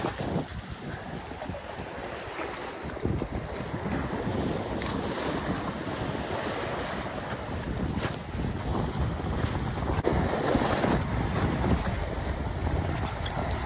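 Strong wind gusts across a rocky seashore during mackerel fishing, a continuous roaring buffet against the microphone with surf washing beneath it and no break for the whole stretch.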